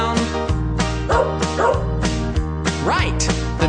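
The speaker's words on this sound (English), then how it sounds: "the dogs go as they chase and tease the cats" Dogs bark in quick, repeated yips and bow-wows, one after another at close range, over a steady backing music bed.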